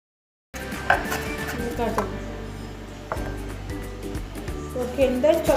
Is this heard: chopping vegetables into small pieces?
yes